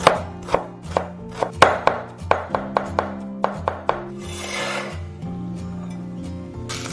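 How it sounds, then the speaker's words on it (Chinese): A knife minces fresh ginger on a cutting board in a rapid series of sharp, close chops, about a dozen uneven strikes. They stop into a quieter stretch with a faint steady hum. "准备1块生姜，切成姜末。"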